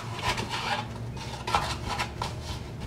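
Flour being mixed into cookie dough in a bowl, steady scraping and rubbing strokes of a utensil with light knocks against the bowl, close and continuous.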